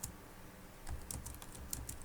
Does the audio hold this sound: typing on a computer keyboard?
yes